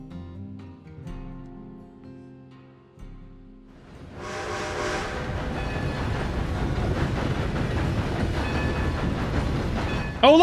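A train rolling along in the Red Dead Redemption 2 video game, a low rumbling idle giving way to a loud, steady clattering roar with hissing steam that keeps building to the end.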